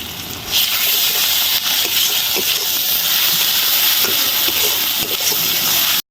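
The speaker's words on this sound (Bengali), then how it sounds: "দিয়ে দেব রসুন বাটা দিয়ে দেব আদা বাটা দিয়ে দেব ধনিয়া গুঁড়া এগুলো ভালো করে কষিয়ে নেব" Garlic paste, ginger paste and ground coriander sautéing in a hot pan, a loud, steady hissing sizzle that carries on without a break and has no talk over it.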